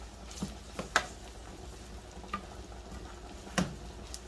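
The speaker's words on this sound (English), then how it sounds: "Just keep stirring your onions." Onions fry quietly in a pan on a home stove, with a soft steady sizzle and several faint clicks and scrapes as they are stirred, close and low in volume.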